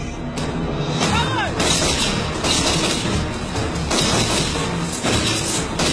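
Movie sound effect of an air strike blowing up a jungle: dense, loud, continuous rumbling blasts and crashing booms that fill the whole stretch, with a voice partly heard under the noise.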